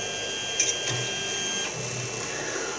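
Creality CR-10S 3D printer with its axis moving, a steady mechanical whir with faint stepper tones and a couple of brief clicks, continuous and fairly close throughout.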